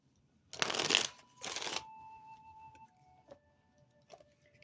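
A deck of tarot cards shuffled during a reading, two loud riffling bursts close up, each about a second long, then a few soft cards placed down amid quiet.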